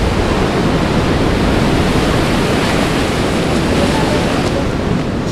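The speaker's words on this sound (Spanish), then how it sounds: "Y igual le voy a poner más sonido de oleaje." Ocean waves breaking on a beach in El Salvador, a loud continuous roar of surf and wash filling the whole stretch, broadband and steady with no distinct pauses between breakers.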